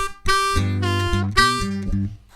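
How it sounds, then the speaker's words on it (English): A blues harmonica lick played at a quicker tempo over a backing track, with sustained reedy chords and bends forming two phrases over a steady bass groove, loud and close. "now let's try it a little bit faster with the backing track."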